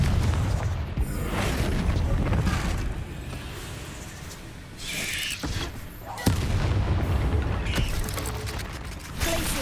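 A Confringo blast spell goes off in a Harry Potter video game. Mechanical clanks and rumbling game ambience build to booming explosive bursts, with a sharp hit about two-thirds of the way through.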